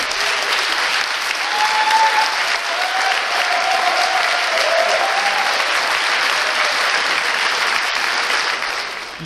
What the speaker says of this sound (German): Ein Applaus für dich.